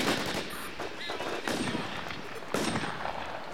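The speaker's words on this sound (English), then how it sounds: "man, I keep hearing a sniper rifle" Gunfire in the survival shooter The War Z, with several sharp rifle cracks and shot reports over a constant noisy background, one near the start and stronger bursts around the middle and end.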